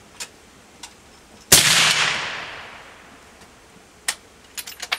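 A suppressed firearm fires one shot up close, a sharp muffled crack whose tail fades over about two seconds, with faint clicks and ticks before and after.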